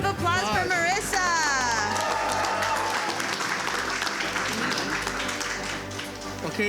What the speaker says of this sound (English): big round of applause for Marissa